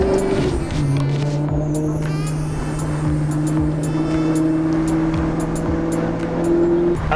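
Maserati GranTurismo Sport engine droning steadily at moderate speed, a deep continuous note with smooth pitch shifts as revs change, close and loud throughout without any talking.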